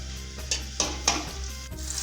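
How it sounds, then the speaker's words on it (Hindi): Onion frying hard in ghee in a pot over high heat for matar pulao, a steady close sizzle with a few sharp spatters and light clinks of a utensil, no voices. "एक प्याज डालूँगी और चूल्हा तेज़ कर दें और प्याज को कलर आने दें।"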